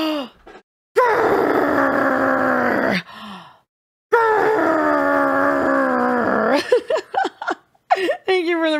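A long, loud growl played as a stream redeem, two sustained rumbling roars separated by a pause, followed by brief voiced sounds.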